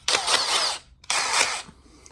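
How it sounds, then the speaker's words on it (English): Two sustained whirring bursts of a power drill drilling out a glued-shut part on a Lexus GS300, the second following a brief pause, close and fairly loud. "We're gonna drill it out."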